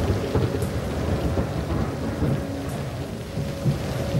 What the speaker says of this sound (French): l'avion vole maintenant sous une pluie battante, à travers des nuages qui réduisent dangereusement la visibilité